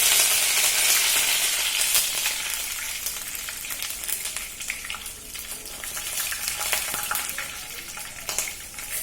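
Cumin seeds and curry leaves sizzling in hot oil with mustard seeds, loud crackling that starts strong and settles into a steady fry with scattered pops.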